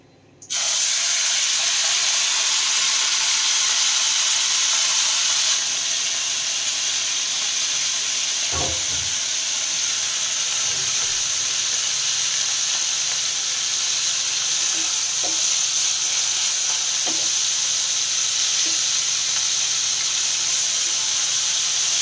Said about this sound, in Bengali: এবার এই মাছের মাথাগুলো ভেজে তুলে নেব, নুন হলুদ দিয়ে মাখিয়ে ভেজে নিচ্ছি।